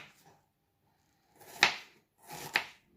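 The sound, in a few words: chopping spinach by hand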